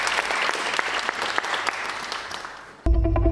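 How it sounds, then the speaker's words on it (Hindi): Studio audience at a Pakistani talk show applauds steadily and fairly loudly for about three seconds, then the clapping cuts off abruptly into a different, tonal sound. "ट्रेलर चलाने से पहले तालियां।"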